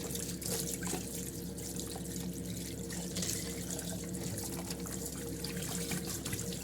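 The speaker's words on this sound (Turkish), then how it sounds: "Kavun yıkamayın diyorlar ama ben genellikle yıkıyorum." Tap water running steadily over a melon being washed in a kitchen sink, a continuous close splashing and trickling with no talk.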